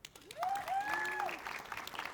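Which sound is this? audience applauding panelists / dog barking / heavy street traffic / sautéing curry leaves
audience applauding panelists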